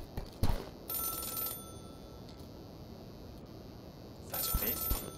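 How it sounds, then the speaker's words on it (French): A telephone ringing in the platform game Celeste, two bursts of shrill electronic ringing separated by a quiet gap, with a few soft thumps near the start. "Le téléphone qui sonne."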